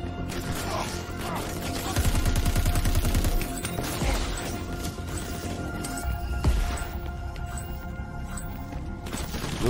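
Crackdown 3 video game combat with volleys of gunfire, heavy bursts and crashing impacts in irregular clusters over a constant rumbling game soundscape.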